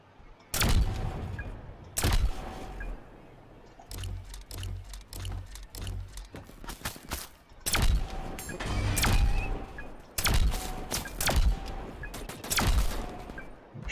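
Repeated gunshots and bursts of fire from a sci-fi shooter game ring out in loud, uneven volleys with deep booming hits, spread across the whole stretch without any talking.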